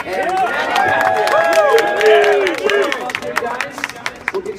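Crowd applause and cheering at a boxing media event in San Francisco for fighters Manny Pacquiao and Chris Algieri, loud and sustained, with voices and hubbub mixed through it before the clapping thins toward the end.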